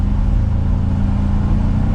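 A 2021 Ford Ranger XLT pickup with a 2.3 liter EcoBoost engine accelerating, a loud, steady engine drone with a constant low hum heard from inside the cab, no voices over it.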